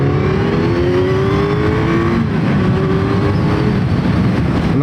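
Kawasaki Z900 inline-four motorcycle under hard throttle, loud and close, a steady engine roar with rising harmonic tones as revs climb, a brief dip, then climbing again.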